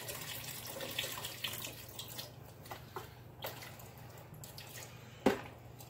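Chicken broth pours from a box into a pot for keto chicken noodle soup, a soft steady trickle with scattered splashes and one sharper clunk near the end.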